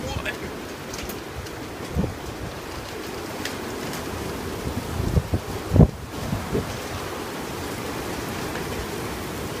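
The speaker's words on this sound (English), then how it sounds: "the wind is picking up" Strong wind gusts buffet the microphone in a steady roar, with several louder surges mid-way; a person speaks briefly over it.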